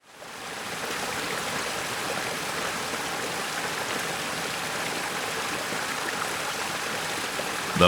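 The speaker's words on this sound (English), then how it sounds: "The Bosch Dishwasher sprays water at the perfect angle and pressure to remove even the most stubborn stains." Water sprays steadily inside a Bosch dishwasher, a continuous close hiss that holds an even level throughout with no voices.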